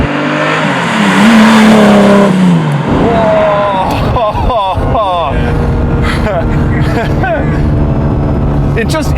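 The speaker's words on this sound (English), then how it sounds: "The engine you start hearing that sound and feeling everything." A Lamborghini Diablo engine revs and roars loudly up close, pitch climbing and dropping through gear changes, with a voice speaking over it.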